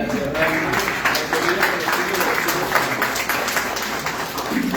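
A congregation in a church applauds, a dense, steady wash of clapping lasting several seconds, fairly loud and continuous throughout.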